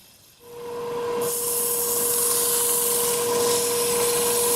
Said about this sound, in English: That's a high-speed steel tool, and just very gently just dragging it along the form,